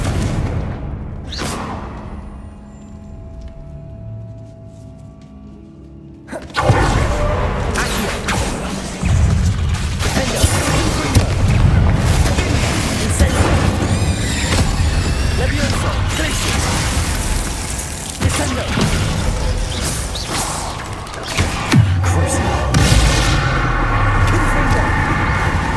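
Confringo explosive spell blasting in Hogwarts Legacy, with a sudden loud burst at around six seconds that gives way to sustained, dense crackling and rumbling impact noise with game music, continuing loud to the end.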